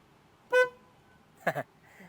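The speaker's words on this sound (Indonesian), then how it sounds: "Kita cek dulu yuk klaksonnya kayak gimana." Two short, bright electronic horn beeps from a Wuling Air EV electric car, separated by about a second, fairly near and otherwise quiet; the second is a quick double chirp.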